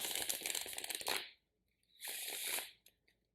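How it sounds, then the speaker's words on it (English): Deck of playing cards riffle shuffled twice by hand, each a crisp, close, fluttering burst lasting about a second, separated by a short silence. "Riffle shuffle,"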